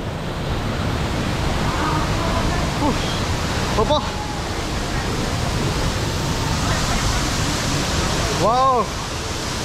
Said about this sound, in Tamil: இப்போ பாருங்க வாட்டர் ஃபால்ஸ் கிட்ட போறோம்